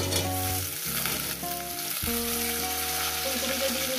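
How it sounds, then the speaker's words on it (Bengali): Cauliflower florets fry in hot oil in a pan, giving a steady, dense sizzle that holds close and loud from start to finish, with faint stirring beneath and no talk. "ফুলকপিটা দিয়ে আরো আমি 4-5 মিনিট ভাজবো।"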